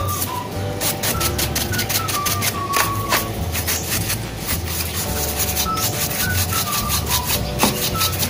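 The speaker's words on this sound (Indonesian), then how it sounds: "Jadi ini dibersihkan pakai kuas seperti ini." Brush bristles rubbing steadily across the dusty frame of an Asus X450C laptop's LCD bezel, a close, continuous scratchy sweeping with repeated short strokes and faint tonal squeaks, no talking.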